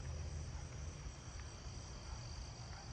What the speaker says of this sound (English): I hear a forest spotted or pine tree cricket over there.